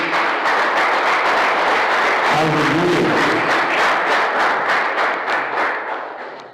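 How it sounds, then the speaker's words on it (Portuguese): A church congregation claps together during a worship service, a dense, steady burst of applause lasting several seconds and tapering at the end, with a brief spoken exclamation over it. "Vamos aplaudir nosso Deus."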